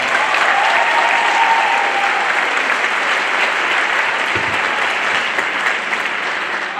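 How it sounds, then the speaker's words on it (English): Audience at a middle school band holiday concert claps steadily, a loud, dense wash of applause from a large crowd filling the room without a pause. "Give them another round of applause."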